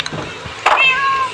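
A Minecraft cat gives a single clear, close meow that rises and trails off, loud and alone over a faint background.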